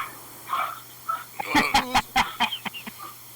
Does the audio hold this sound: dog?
yes